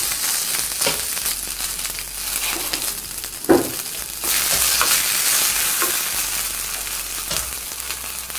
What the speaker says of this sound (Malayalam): നെക്സ്റ്റ് ഇതിലോട്ട് നമ്മൾ മുളകും വേപ്പില ഇട്ട് കൊടുത്ത് ഒന്ന് കത്തിച്ചെടുക്കുക.